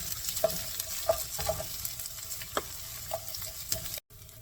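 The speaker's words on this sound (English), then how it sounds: "Just use some onions, stir it." Chopped onions fry in oil in a pan and are stirred while cooking for a cluster beans fry. A soft, steady sizzle runs underneath, broken by brief spatula scrapes and clicks, then a short drop-out near the end.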